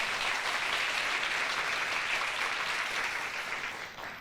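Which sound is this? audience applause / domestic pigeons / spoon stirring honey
audience applause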